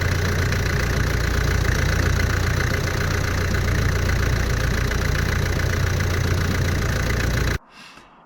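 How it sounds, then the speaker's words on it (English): A Land Rover diesel engine idling while warming up after long disuse, a loud, close, steady low rumble with fine knocking texture that cuts off abruptly near the end, leaving quiet background. "I had left this running for a little while just to get the engine warmed up before I left"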